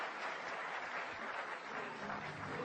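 Audience at a university lecture breaking into steady, dense applause that fills the whole stretch at an even, sustained level with no gaps.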